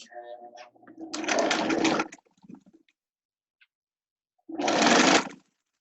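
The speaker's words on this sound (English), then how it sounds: "stitches to the inch, and then sew the curve" A sewing machine runs in two bursts, a longer stretch then a shorter one after a pause, stitching the curved edge of a fabric scrub cap; the motor whirs loud and close, with brief talk at the start.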